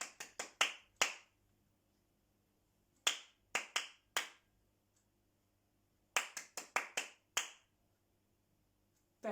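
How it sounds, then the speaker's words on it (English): Crisp hand clapping in short rhythm patterns during a children's music lesson on rhythm and tempo, groups of three to five sharp claps separated by silent pauses, close and dry in a quiet room. "I'm going to clap lots of other rhythms and I want you to clap them back for me"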